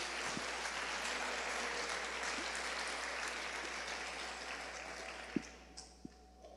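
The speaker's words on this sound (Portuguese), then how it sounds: "Se você puder aplaudir a Jesus por isso." A church congregation applauds steadily in a broad, even wash of clapping that holds for several seconds, then thins out with a few isolated louder claps near the end.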